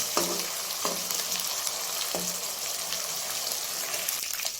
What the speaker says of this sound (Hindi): तो इसको भी इस तरह थोड़ी देर तक फ्राई कर लेते हैं